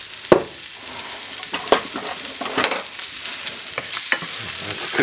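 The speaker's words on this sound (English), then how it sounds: "Let's cook it up, this onion, shallot. The shallots are getting browned and softened." Onion and shallots frying and browning in a pan, a continuous sizzle punctuated by several sharp clacks and scrapes of stirring, close and loud with no talk.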